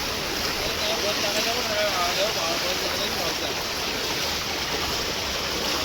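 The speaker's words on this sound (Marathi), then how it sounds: "हे बघा पाणी वरून केवढ्या जोरात फार्सने येतं आहे" A forceful stream of rainwater rushes downhill during a heavy monsoon downpour in Virar, making a dense, steady roar of churning water that stays loud and close the whole time.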